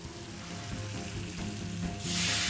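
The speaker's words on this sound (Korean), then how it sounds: "지금 기름 넣고 볶고 있잖아요." Scallion whites, ginger and garlic stir-frying in hot oil in a wok give a steady, close sizzle that grows louder and brighter toward the end as more hits the pan.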